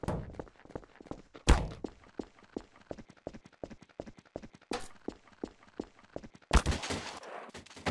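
Gunshots hit a player in the game Trouble in Terrorist Town, a rapid run of sharp, close cracks and thuds, with several louder blasts standing out from the quicker shots.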